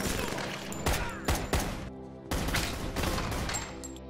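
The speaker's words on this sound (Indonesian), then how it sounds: "Tiba-tiba, lampu mati disusul dengan rentetan tembakan." Bursts of gunfire from an action film's mafia shootout in a house after the lights go out, with several sharp volleys and crashing impacts across a few seconds of dense, loud noise.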